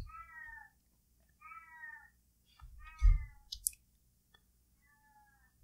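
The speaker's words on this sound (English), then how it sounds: "There's a cat crying outside my room" A cat cries outside a room, giving several drawn-out meows spaced a second or so apart, moderately near, with a few soft thumps and clicks between the calls.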